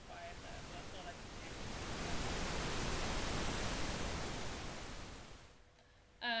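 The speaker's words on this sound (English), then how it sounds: "So if I play pink noise, I can also make it louder or quieter." Pink noise plays from music software: a steady broadband hiss that swells louder in the middle, then fades and cuts off near the end, with a brief tone at the start.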